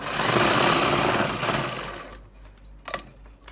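A sewing machine stitches palazzo pants, giving a loud, steady whirring rattle that slows and stops partway through, followed by a sharp click and quiet.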